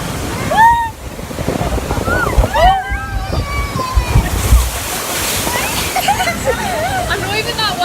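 On the Kali River Rapids raft ride at Disney's Animal Kingdom, water splashes and rushes around the boat while riders shriek, squeal and call out over the churning spray.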